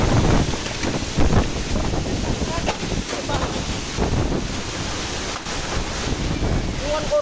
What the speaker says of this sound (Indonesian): Salah satu warga berhasil merekam suasana mencekam saat terjadi hujan deras disertai angin kencang